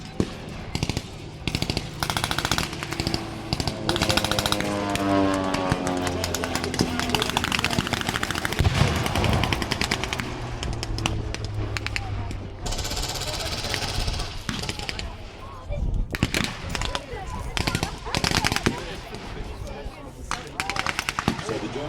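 At a WWII reenactment, an aircraft fires bursts of rapid machine-gun fire, mixed with loud crackling gunfire and engine drone, while a commentator talks over the clatter throughout.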